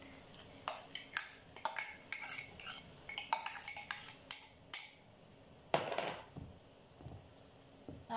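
A spoon stirs instant yeast, sugar and water in a bowl, producing a steady series of close, light metallic clinks and scrapes against the bowl with no talking.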